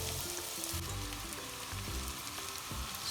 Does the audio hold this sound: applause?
no